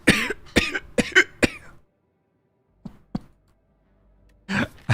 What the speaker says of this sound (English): Was the coughing in character or real?